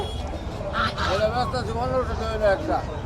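Chinese geese honk repeatedly at close range, loud nasal calls rising and falling amid a murmur of chatter at a rural market.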